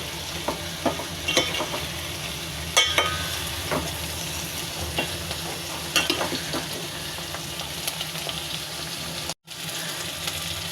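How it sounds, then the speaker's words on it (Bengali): Flat beans frying in oil in a pan give off a steady crackling sizzle, with repeated sharp stirring scrapes over it. The sound is near and moderately loud, cuts out briefly toward the end, and no one speaks. "শিমগুলো অল্প করে ভেজে নিব।"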